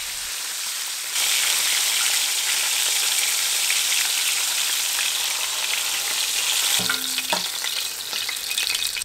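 Liver cubes dropped into hot oil set off a loud, dense, steady sizzle that starts abruptly after a moment of quiet and runs on, with a brief clatter of utensils near the end.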